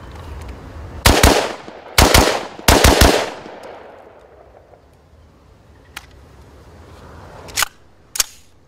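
A rifle fitted with a Sightmark Ultra Shot sight and a green laser fires at a shooting range. It gives three loud, close bursts of two or three rapid shots each, then a faint pop and two more sharp single shots later on.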